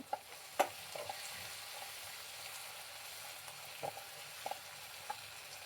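Ladies finger (okra) frying on a low flame in a pan, a soft steady sizzle with a few faint clicks of stirring, quiet and close.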